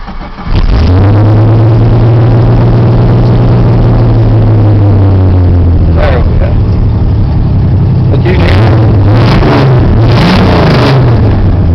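A 1986 Jeep truck's engine runs loud and close, a steady rumbling drone that builds and revs in several surges near the end, filling the whole stretch without talk.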